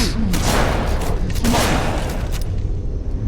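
Shotgun blasts in the Halo video game boom in quick succession, loud and dense, over a constant battle din with in-game announcer voices.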